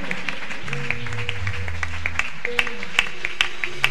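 A church congregation applauds, a steady wash of clapping with sharper individual claps standing out, mixed with sustained music tones and voices underneath.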